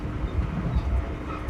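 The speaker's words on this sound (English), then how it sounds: "The train is moving through the landscape, the frozen ocean, the tundra." Continuous low rumble of a train rolling along the rails through a frozen, snowy landscape, loud and steady with faint clatter beneath, no voices.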